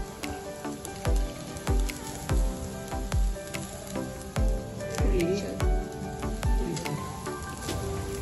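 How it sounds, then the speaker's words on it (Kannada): Onion, garlic, coriander, cumin, fenugreek, tamarind and chilli fry in a pan for a Mangalore-style chicken sukka, a steady sizzle broken by regular sharp knocks and clatters of stirring. "ನೀರುಳ್ಳಿ ಬೆಳ್ಳುಳ್ಳಿ ಕೊತ್ತಂಬರಿ ಜೀರಿಗೆ ಮೆಂತೆ ಪುಳಿ ಇವತ್ತ ಮುಂಚಿ ಪಾಡ್ದು ಫ್ರೈ ಮಾಡ್ತು ನೋಡು"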